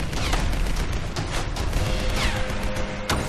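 Sharp gunshots and booming impacts crackle through a Tomb Raider castle fight, a continuous, loud barrage with heavy low rumble and no voices.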